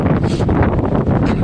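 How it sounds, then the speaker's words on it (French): Strong wind buffets a camera microphone on an icy cold day in the woods, producing a loud, continuous low rumble and roar that fills the whole moment without any voices. "it's windy. It's going to be noisy in the camera."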